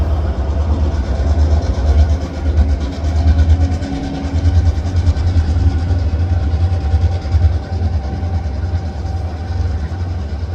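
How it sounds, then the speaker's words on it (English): Loud, deep rumbling of old CN and CPKC diesel locomotive engines running steadily, a heavy low throb that fills the whole stretch. "Listen to the sound of these old diesels."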